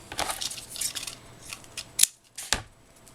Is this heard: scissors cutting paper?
yes